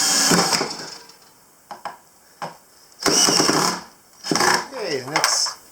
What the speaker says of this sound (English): I'm going to screw her in